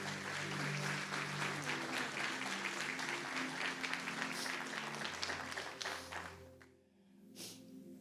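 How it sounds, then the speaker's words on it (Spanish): A church congregation applauds steadily for several seconds, a dense wash of clapping that fades near the end, with faint music lingering underneath. "Le damos un aplauso al Señor y a Pablo también."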